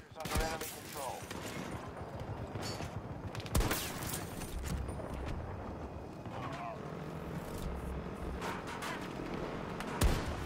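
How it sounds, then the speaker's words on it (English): Gunfire in the video game Battlefield 2024, bursts of distant and mid-range shots and rattling automatic fire under a continuous battlefield rumble, with a few louder close cracks and voices talking over it. "Being shot at?"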